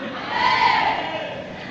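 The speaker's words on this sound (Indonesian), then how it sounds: "Bersorak-sorai, tepuk tangan dulu." A church congregation at a leadership training gathering raises a loud, swelling cheer that peaks and then fades over a couple of seconds.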